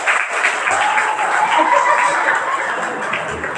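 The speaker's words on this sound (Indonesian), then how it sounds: "tepuk tangan ini buat santri" An audience at an Isra Mi'raj religious gathering led by KH Adam Misbahudin Firdaus applauds the santri, with sustained, steady clapping from a crowd that is loud and close throughout.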